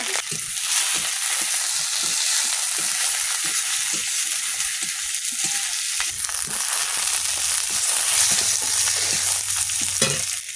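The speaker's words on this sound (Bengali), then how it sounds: "তেল দিচ্ছি, 5 ফোঁটন, রসুন, কাঁচা লঙ্কা" Oil tempering in a pan with five-spice (panch phoron), garlic and green chili: loud, continuous close sizzling and frying with occasional stirring scrapes, no voices.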